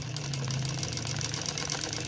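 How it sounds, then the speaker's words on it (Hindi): Steady mechanical whir of a sewing machine running continuously as double stitching is sewn into fabric, a constant low hum with a faint rattle, close and uninterrupted, no voices. "ये मैं सिलाई लगा रहा हूँ"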